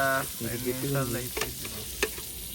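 River shrimp frying in oil: a steady sizzle runs under harmonic vocal-like tones early on, with a couple of sharp crackling pops standing out near the end.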